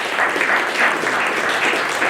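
An audience at a community event in a Tucson convention setting claps in a dense, steady burst of applause, close and continuous for a couple of seconds.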